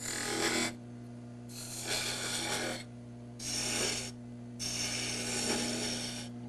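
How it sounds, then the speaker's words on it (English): Skew chisel cutting into a spinning wood workpiece on a lathe, working in from two sides to form a waist: four bursts of bright scraping shear, each about a second long, separated by pauses, over a steady motor hum. "So I'll start out with using my skew to cut in from"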